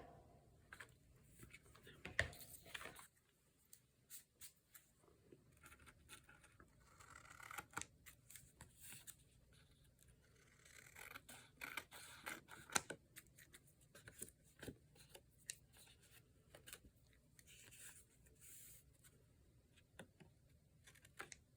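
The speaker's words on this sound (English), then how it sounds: "I'm just going to cut away the excess of the napkin." Scissors snip away excess napkin during junk journal crafting, a string of small quiet clicks and crisp cuts spread irregularly with soft rustling of paper between them.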